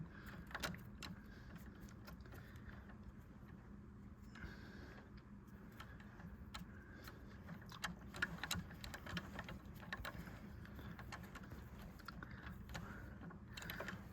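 A ratcheting socket wrench works the thermostat housing bolts on a Chevy Duramax, giving rapid irregular clicks over a steady low mechanical hum, close by.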